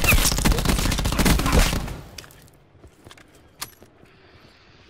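Gunfire in the Black Ops 4 Blackout video game: a loud dense volley of rapid shots for about two seconds, then quieter scattered distant pops and a single sharp shot, no voices.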